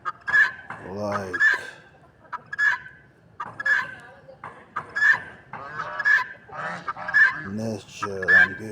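Pet birds give a run of loud, goose-like honking calls, roughly one per second, close and clear with no talking over them.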